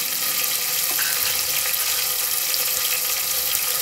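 Ginger and garlic frying in a pan for a vegetable masala sabzi, giving a steady, bright hiss and sizzle throughout, close and fairly loud, with no talking.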